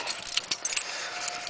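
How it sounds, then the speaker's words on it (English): Car keys for a 1989 Jeep Cherokee jangle and clink up close in a short run of metallic rattles, on a freezing day before a cold start. "Got the keys here."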